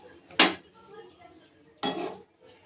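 Fish pieces go into a pot of boiled cauliflower and potato, producing two short, sharp clattering splashes about a second and a half apart, with quiet kitchen noise between them.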